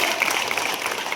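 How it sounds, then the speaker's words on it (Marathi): Brief burst of audience applause at a talk by a former soldier in Malegaon, steady dense clapping throughout without any voices. "त्याबद्दल जोरात टाळ्या वाजवा"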